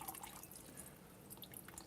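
Water drips and trickles quietly as a Trichocentrum orchid potted in cocoa husk soaks in a container, with scattered light plinks and a faint wash of liquid, close and soft.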